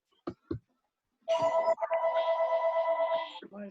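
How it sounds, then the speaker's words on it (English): A phone ringtone sounds, a bright pulsing electronic tone ringing steadily for about two seconds, preceded by a couple of short knocks and followed by a brief voice. "My phone is ringing."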